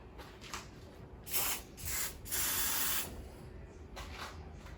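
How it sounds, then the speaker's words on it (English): Grease sprayed from a can onto the bonnet bump stops of a Jeep Wrangler: several short, soft hissing bursts close by, with one longer spray, in a quiet setting. "I'm just going to put some grease on them so that they slide out a little bit easier."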